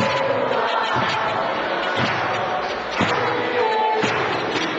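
A church congregation at a family worship service claps in a slow, steady beat, roughly one clap per second, over a full wash of music and singing voices.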